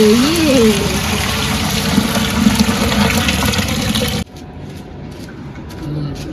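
Water pours steadily in a loud, even rush that cuts off abruptly partway through, leaving quieter room sound and a faint voice.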